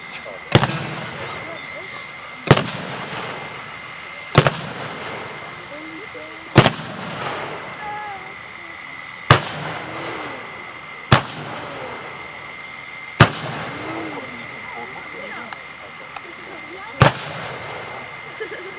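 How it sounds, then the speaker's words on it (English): Artillery shells a village, each round landing as a sharp, booming report roughly every two seconds, about nine in all, with a low rumbling background between impacts. "they're going to call in some artillery on there, see if they can wake up anybody that's in the village"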